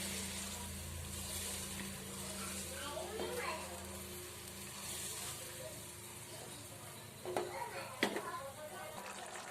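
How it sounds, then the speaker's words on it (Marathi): Jackfruit vegetable curry boils in a pan, giving a continuous watery bubbling and sizzle, with a louder burst of bubbles near the end while someone talks. "भाजीला आपल्या छान उकळी फुटलेली आहे."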